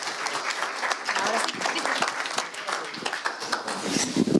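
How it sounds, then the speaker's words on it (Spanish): Audience applause at a business panel session, a dense patter of many hands clapping steadily throughout at moderate loudness, with no talk over it. "Un aplauso."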